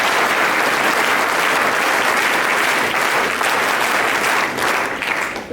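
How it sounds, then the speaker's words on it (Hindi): A crowd applauds with loud, sustained clapping for cadets at an NCC camp in Patna, continuing steadily throughout and tapering slightly at the end. "सभी कैडेट्स के लिए एक जोरदार तालियां बजाइए इस कैंप के"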